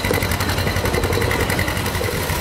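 A rare wide-front John Deere BW two-cylinder tractor engine runs steadily at close range, a dense continuous mechanical chug with no voices over it.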